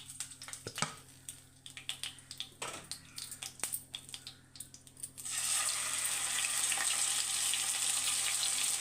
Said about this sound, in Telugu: ఇదే మాదిరిగా మనం అయితే అన్ని ముక్కలు కూడా ఫ్రై చేసేసుకుందాం